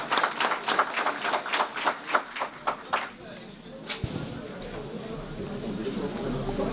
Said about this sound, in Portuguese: peço a todos uma salva de palmas por eles aqui hoje